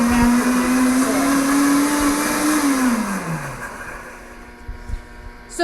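A cooking blender whirs loudly as it purées vegetables, its motor holding a steady pitch before winding down and fading out near the end.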